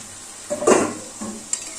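A spoon stirs marinated chicken, onion and a splash of water in a pan over a high gas flame. A few scraping strokes come with a short burst of wet sizzling, close and clear, and no one speaks.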